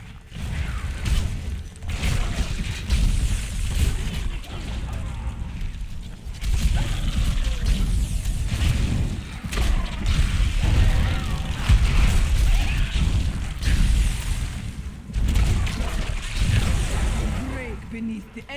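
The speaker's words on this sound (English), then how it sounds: "A little explosion." Spell effects from a Diablo 3 monk palm build detonate in quick succession, producing repeated crashing bursts and booms over a dense, continuous bed of game sound.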